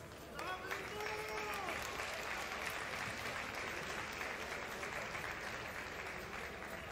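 Crowd at a fight event applauding the fighters, dense sustained clapping over the whole stretch while a voice speaks over it near the start.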